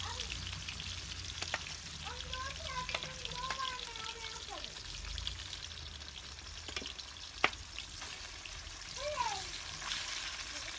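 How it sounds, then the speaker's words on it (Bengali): Pangas fish pieces fry in hot oil with a quiet, steady sizzle and occasional crackles and sharp ticks, a voice speaking faintly in the background. "এই যে পাঙ্গাস মাছ এবার ভেজে নেব।"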